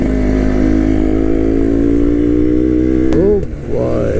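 Yamaha RX135 motorcycle engine labouring steadily uphill in gear, a loud continuous drone held close for about three seconds before a brief dip and change in pitch, with a short voice exclamation near the end.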